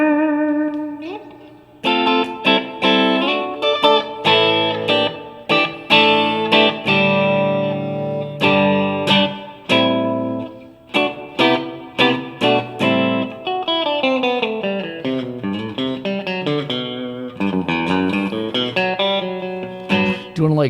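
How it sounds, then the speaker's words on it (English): Guitar played through a Strymon Flint pedal on its 70s solid-state electronic plate reverb setting: loud strummed chords and picked single notes, each with a bright, lingering plate tail. "Now we're gonna go for the 70s solid state electronic plate reverb."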